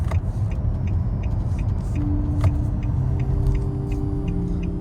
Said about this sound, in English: It's very quiet inside. Road noise is acceptable.